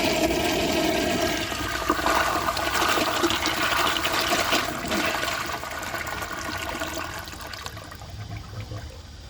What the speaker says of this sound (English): I'm gonna give that another flush and see if I can make it take the rest of the dirt that's left in there